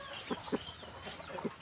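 Aseel chickens give a few short, soft clucks spaced across a quiet yard, fairly close but low in level, with no talking.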